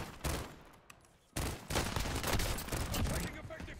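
Video game gunfire comes in rapid bursts of shots, a short volley, a pause, then a sustained dense stretch of firing, close and loud.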